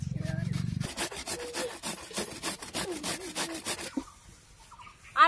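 A potato is rubbed against a grater in quick, rhythmic rasping strokes, a dense run of scraping pulses that stops near the end, followed by a short handling clatter.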